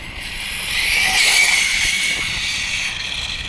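An Arrma Talion RC car rips past at full speed, a high-pitched motor whine and hiss swelling as it nears, peaking, then fading into the distance.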